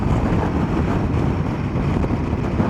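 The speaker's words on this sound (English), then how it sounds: "It is a bit windy." Wind buffets a camera microphone during a ride on a grey, cloudy day, a steady close, loud low rumble that roars without a break and carries no voices.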